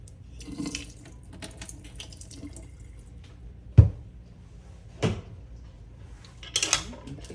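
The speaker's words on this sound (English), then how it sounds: "Ladling the brine over it." Hot brine is ladled over cucumbers in a canning jar, with soft pouring and splashing and a few sharp clinks of the ladle and glass over a quiet kitchen background.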